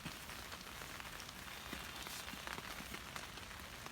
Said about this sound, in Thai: ได้ยินเสียงไหมคะฝนตก